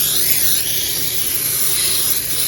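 A steady, continuous hiss of aerosol baking spray coating cake layer pans, fairly loud and close, running without a break and with no talking.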